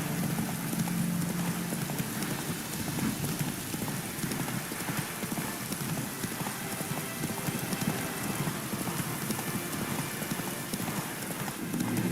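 Horse galloping in The Witcher 3, rapid continuous hoofbeats close by over a dense rain-like wash of noise, with no clear talk.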